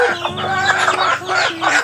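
A white chicken clucks in a quick run of short calls close by, with steady low background hum underneath.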